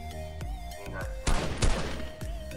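Gunfire in the Fortnite video game, several sharp shots over a steady game soundtrack, with a pair of louder blasts in the middle of the stretch.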